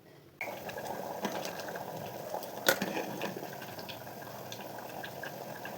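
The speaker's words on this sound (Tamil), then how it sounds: "கொதிக்க வைக்கலாம்." A pot of green pea kurma simmers and boils, giving a faint, steady bubbling and soft popping that runs without a break after a quiet start.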